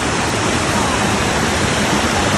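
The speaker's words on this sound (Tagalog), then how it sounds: "Ang ganda ng tubig ngayon, medyo malakas ang agos." Mountain stream on Mount Banahaw rushing with a strong current, a steady, loud, broadband roar of flowing water that fills the whole clip without pause.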